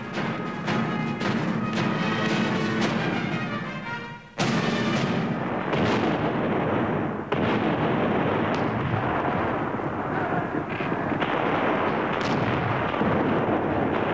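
Musket volleys and cannon fire from black-powder weapons boom and crack in a dense, continuous barrage, with a sharp break partway through before the rolling blasts resume.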